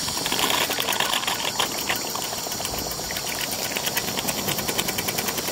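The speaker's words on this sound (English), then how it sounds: "So if I just put the steam on the exhaust, it'll run backwards." A modified Stuart 10H steam engine runs in reverse with steam fed through the exhaust, giving a fast, steady chuffing and hiss with rapid mechanical clatter, close up and continuous.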